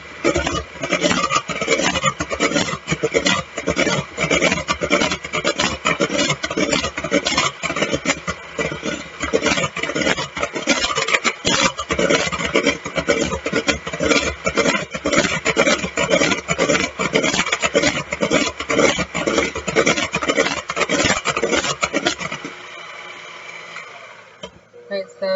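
An electric mixer whips cream for brownie waffles, a steady buzzing whir with rhythmic scraping that runs for over twenty seconds before stopping, and a voice talks faintly underneath.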